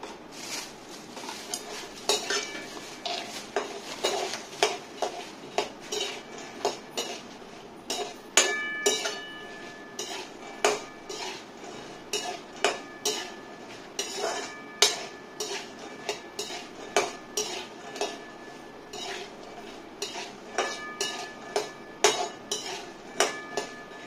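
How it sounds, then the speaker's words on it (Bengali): Raw peanuts dry-roasting with salt in a pan on a hotel kitchen stove, stirred in a steady rhythm of scraping and clinking strokes that sound close and moderately loud, with no talking. "লবণ দিয়ে আমি বাদামটা ভেজে নেব"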